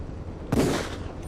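A single SOCOM pistol shot in Metal Gear Solid: The Twin Snakes, fired at a spotlight, lands as one sharp crack with a short ringing tail over a steady low background hum.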